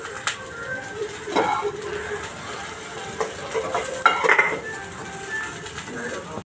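A spatula scrapes and clinks as sautéed okra (bhendi) is lifted from a pan onto a plate while making bhendi batata bhaji, with intermittent scrapes over a soft background hiss.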